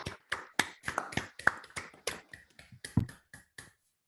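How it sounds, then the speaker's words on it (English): A few participants in an online meeting clap over unmuted microphones, giving sparse, close, uneven claps and snaps that trail off into silence. "I would like to suggest that we unmute ourselves for a round of applause"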